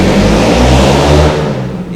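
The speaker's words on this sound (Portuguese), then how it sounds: "Esse cara é muito chato demais com essa moto." A motorcycle passes by outside with a loud, close engine roar that swells and then begins to fade away near the end.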